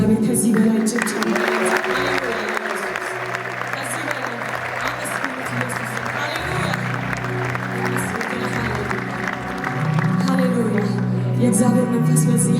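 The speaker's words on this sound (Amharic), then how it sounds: "ከዚህ በላይ ጭብጨባ" Sustained clapping fills a Pentecost church worship gathering at the Adwa Victory Memorial Museum, with dense applause lasting throughout under voices and a murmuring crowd, and it grows fuller toward the close.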